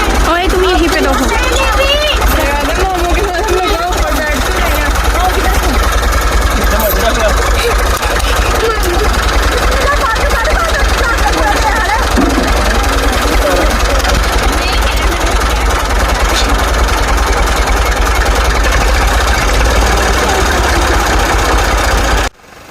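A tractor engine runs at a steady, loud, rumbling idle in a village during Eid, chugging throughout with a rough knocking rhythm while people talk over it.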